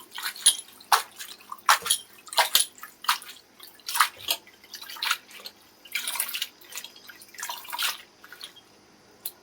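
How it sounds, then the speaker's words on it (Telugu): Red ponnaganti greens are swished and rinsed in a bowl of water, giving repeated close splashes and drips in an irregular rhythm with short gaps between. "ఫ్రెష్గా 2-3 సార్లు ఇలా కడుక్కొని శుభ్రం చేసుకోవాలి."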